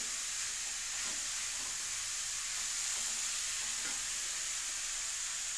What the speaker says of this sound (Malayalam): നന്നായിട്ട് ഇളക്കി കൊടുക്കുക ഓരോ വിധം ചുവന്ന് വരുന്ന വരെ നമുക്ക് ഇളക്കി കൊടുക്കാം ഉള്ളി